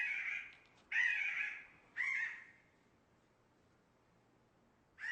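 A jay calls in a bird-cognition setting: two loud, harsh raspy calls about a second apart, then a quieter third, followed by near silence before another call begins at the end.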